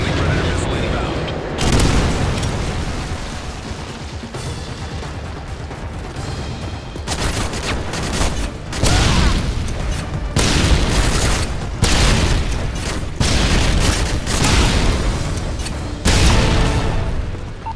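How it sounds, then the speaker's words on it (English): Predator missile strike explosions in a Call of Duty style video game rumble and boom repeatedly, loud heavy blasts with crackling debris and gunfire-like bursts rolling across the whole stretch, with voices heard amid the chaos. "missile ready for deployment. Friendly Predator missile inbound."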